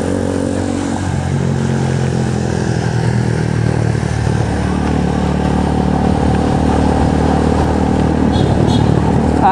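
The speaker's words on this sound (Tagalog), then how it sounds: "Namiss ako ng motor ko, kailangan ko mag-maintenance." A motorcycle engine runs loud and close throughout, a steady rumbling drone with rattling mechanical clatter.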